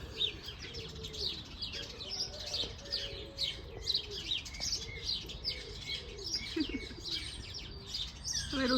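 Little parrots chatter steadily with a busy stream of overlapping chirps and tweets at moderate loudness. Softer cooing notes sound beneath them.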